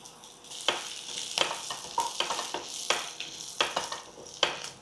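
Mustard seeds, cumin, curry leaves and green chili sizzle and crackle in hot oil for a Telugu tempering, with bursts of spattering and stirring, close and alone.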